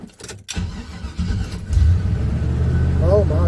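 A Chevy C10 square body truck cranks briefly and fires up, then settles into a rough, rumbling idle close by, with a voice speaking over the start.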